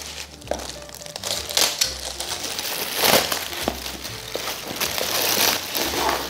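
Crinkling and rustling of packaging as Audio Technica ATH-CK330C earphones are unboxed, continuous close crackles of plastic and cardboard handling without speech.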